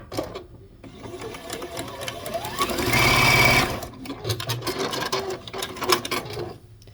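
A sewing machine stitches a quilt block in bursts, its rapid needle chatter building to a loud, sustained run midway before dropping back to shorter stop-start runs, up close with no talking.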